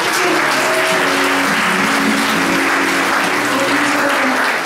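Steady, dense applause from a conference audience fills the hall for several seconds at a full, even loudness, with no voices rising above it.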